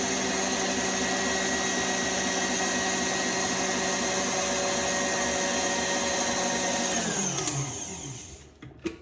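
An electric mixer whisking meringue to stiff peaks gives a steady, loud, continuous whirring drone that holds for several seconds, then winds down as the motor is switched off, followed by a faint clink.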